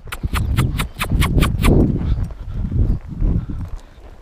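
A mule is at work in a corral, with quick, loud, rhythmic hoof clops close by that give way to heavier shuffling and thumping on the ground.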